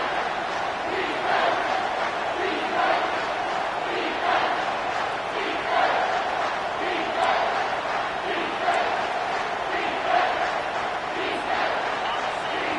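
A stadium crowd roars and cheers steadily in College Football 25 during a Wisconsin versus Illinois dynasty game, the broad, rolling noise swelling and easing slightly as fans rally behind the defense on third down.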